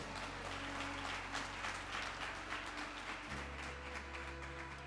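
A church congregation applauds steadily, many hands clapping together in a dense, continuous wash of sound heard from a distance.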